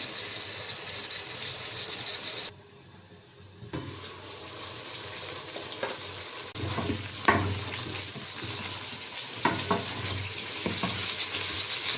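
Dried fish curry sautéing in a pan, with a steady sizzle that drops briefly before resuming, broken by scraping stirs throughout.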